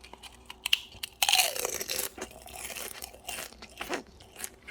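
Crisp, loud crunching bites into brittle fried rice paper, followed by a run of crackling chews up close, no talking.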